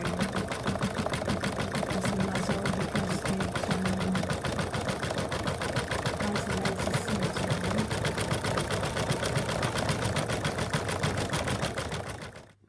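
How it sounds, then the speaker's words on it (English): Sewing machine running a dense satin stitch around an appliqué edge, a rapid steady needle rattle close up that continues without break before stopping at the end. "we're now going to do the satin stitch around that"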